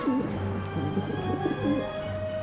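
A pigeon coos in the video game Syberia: The World Before, giving a series of soft, throaty, repeated coos close by over a steady ambient hum, with no talk.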